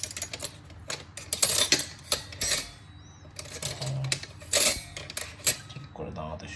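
Metal spoons clattering and clinking in repeated bursts, sharp close rattles coming in uneven clusters, with brief quiet gaps between them.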